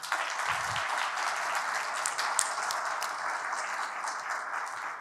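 An audience at the award ceremony of the 11th EU Human Rights Short Film Competition applauds steadily and evenly for five seconds, many hands clapping in a dense wash at constant volume.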